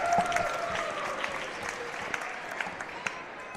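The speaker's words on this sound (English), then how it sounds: "the fans giving them a round of applause" Fans in a high school gym applaud the dance team seniors at a basketball game, a steady crowd clapping with a voice over the announcer's system sounding beneath it.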